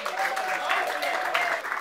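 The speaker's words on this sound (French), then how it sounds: "Applaudissez pour les parents." A crowd claps steadily at a civil wedding, moderately loud and continuous, with a faint voice mixed in.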